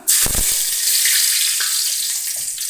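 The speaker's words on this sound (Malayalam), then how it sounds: "എണ്ണ ചൂടായിട്ടുണ്ട് നമുക്ക് കടുക് കൊടുക്കാം അല്പം കറിവേപ്പില ഇട്ട് കൊടുക്കാം" Mustard seeds and curry leaves hit hot oil for a Kerala banana-flower and chickpea thoran, bursting into a sudden loud sizzle with a few sharp pops at the start, then a bright, steady frying hiss.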